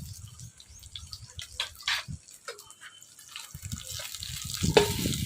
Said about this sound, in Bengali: এই দেখেন মাছ লাল লাল করে ভেজে নিয়েছি, এবার তুলে নেব।